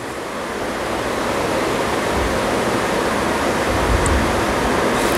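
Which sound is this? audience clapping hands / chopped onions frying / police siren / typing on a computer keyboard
chopped onions frying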